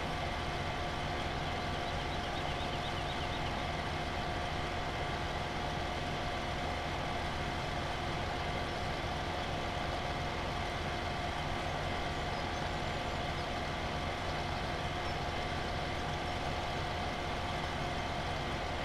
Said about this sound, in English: Even the John Deere here's lacking a little bit of horsepower here with a hilly field.